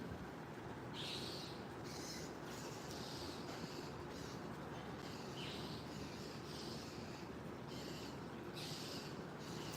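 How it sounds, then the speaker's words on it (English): Parrots calling from a distance in an outdoor setting, with bursts of high chirping and squawks recurring through a steady, fairly loud ambient background. "You hear the birds? I think the parrots are over there."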